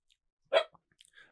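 A dog gives a single sharp, close bark, followed by a few faint small sounds against near silence.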